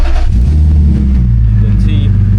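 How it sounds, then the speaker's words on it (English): A BMW E46 with an MS43 engine computer fires up and settles into a loud, steady idle nearby, while someone talks over the engine. "You can see the car starts."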